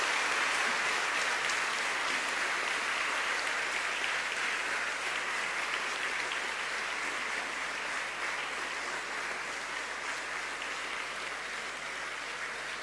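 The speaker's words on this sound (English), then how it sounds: "give them a very rousing applause" Graduates at a 2018 graduation ceremony for APIT Sri Lanka and Staffordshire University applaud their parents and families, a dense, steady wash of clapping from a large hall that carries on unbroken for over twelve seconds.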